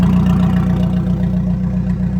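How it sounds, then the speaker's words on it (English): A Nissan Hardbody truck engine idles smoothly and steadily after being revived, its low, even rumble close and loud throughout with a faint rhythmic clatter and no talking. "it fired right up like nobody's business, and you can see it's idling beautifully right now"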